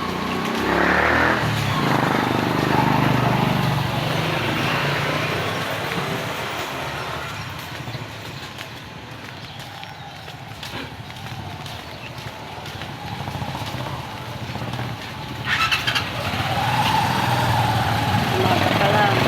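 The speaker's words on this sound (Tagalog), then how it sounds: "Umaga pa lang, mga sasakyan dito," Morning road traffic of cars and motorcycles passing near a school on a rainy, slippery street: a continuous close wash of engine and tire noise, with vehicles swelling and fading as they go by.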